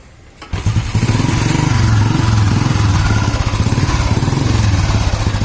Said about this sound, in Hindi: आइए फिर हम आपको इसको आगे स्टार्ट करके दिखाते हैं कि इंजन की कंडीशन कैसी है इसकी।